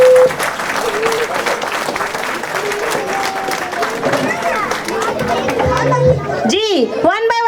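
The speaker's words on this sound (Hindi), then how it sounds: "तालियां बजाएं सब जी बच्चों के लिए" A family gala audience claps for children called onto the stage, sustained applause mixed with lively children's voices and crowd noise, with squeals and shouts rising near the end.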